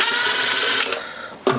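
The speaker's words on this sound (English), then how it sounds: "So we gotta remove the two screws that are holding it to the plate, to the box." A powered screwdriver or drill whirs steadily for under a second while removing screws from an electrical outlet plate, then winds down, followed by a short sharp clack.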